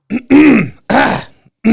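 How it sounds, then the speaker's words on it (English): Someone clears their throat with a series of guttural, rasping bursts, close up and loud, four in quick succession. "Sorry, just clear my throat."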